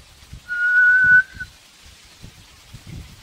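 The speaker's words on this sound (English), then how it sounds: "Can you whistle?" A single clear, steady whistled note held for about a second, with quiet breathy shuffling before and after.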